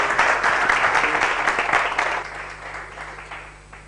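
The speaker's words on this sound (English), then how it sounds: "All right, can we have a round of applause for Amreen from Metador?" Applause from the audience at a women's pitch competition final, a dense burst of clapping that fades out over about four seconds.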